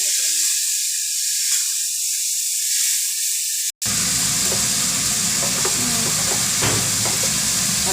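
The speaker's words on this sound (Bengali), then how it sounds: "এবার দিয়ে দেবো এখানে পেশাই করা মশলা, আদা রসুন পেঁয়াজ টমেটো সমস্ত কিছু" Ground spice paste of ginger, garlic, onion and tomato hits hot oil after the tempering has fried, bursting into a loud, close, steady sizzle that goes on without pause.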